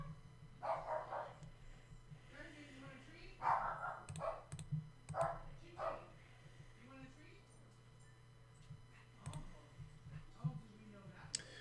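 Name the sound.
dogs barking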